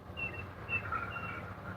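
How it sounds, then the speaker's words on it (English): Seagull calls from near a carp-fishing spot: a few short, thin cries, moderately faint, set over a steady low background rumble with no talking. "Yeah, seagull."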